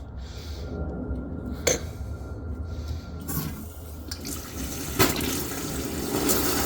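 Water rushes steadily through a newly installed tap and attached pipe as it is flushed, a continuous loud gushing with a few brief splashes and knocks.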